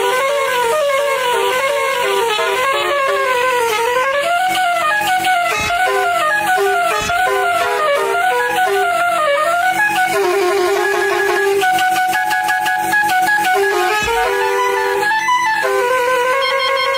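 A homemade 130 dB multi-tone car horn blares loudly, playing a melody continuously, harsh and close, with no talking.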